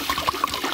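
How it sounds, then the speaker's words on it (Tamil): Water is poured into a cooking pot for plantain in a fish and plantain fry, heard as a brief steady splashing trickle close by. "வாழைக்காய் வைக்கிறதுக்கு தண்ணி ஊத்துறேண்ணா."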